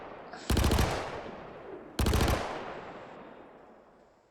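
Two sharp bursts of rapid automatic gunfire from a Klaus and Werner Lumin V SMG in Star Citizen, each a fast rattling volley that trails off into a fading echo, with a quiet gap between them.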